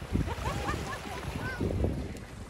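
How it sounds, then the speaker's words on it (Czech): Sea waves wash on a Croatian shore in a steady broadband rush with wind noise, while faint voices murmur in the background. "To jsou vlny."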